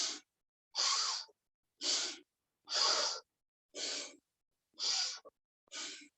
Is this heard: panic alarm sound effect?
no